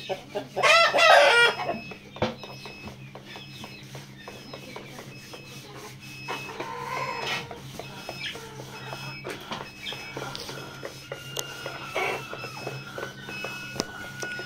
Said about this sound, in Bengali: এখানে রয়েছে দেশি মুরগি 50 পিস বাচ্চা রয়েছে